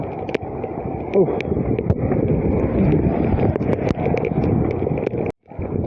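Strong cyclone wind buffets the microphone in a continuous, heavy rumble on an open road during rain, loud and close, with brief sharp knocks and a short drop out near the end.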